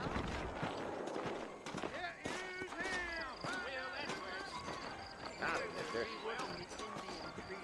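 Horse hooves clip-clopping in Red Dead Redemption, a steady trotting rhythm running under continuous male speech, moderately close and partly masked by the voices.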